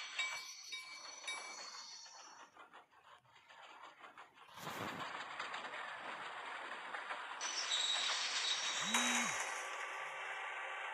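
Train running in a railroad driving video game, a faint rumble of rolling wheels and mechanical clinks with a brief burst of noise midway, and a short tonal horn-like note near the end.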